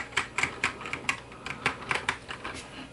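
Typing on a repaired MacSense USB keyboard: a steady run of crisp, close key clicks at a brisk, slightly uneven rhythm, heard alone with no voices.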